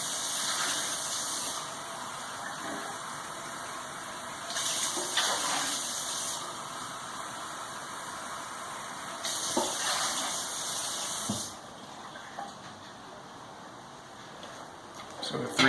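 Warm water runs from a kitchen tap while bread dough is being prepared, a steady hiss that swells in several bursts as the flow is adjusted, with quieter gaps between.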